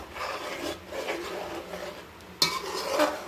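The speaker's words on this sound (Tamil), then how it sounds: "பால் அடிப்பிடிக்கும், நம்ம இப்படி கிண்டிக்கிட்டே இருக்கணும்" A spoon scrapes and stirs around a pot of milk in repeated soft strokes, with one sharper clink of metal, fairly close and quiet.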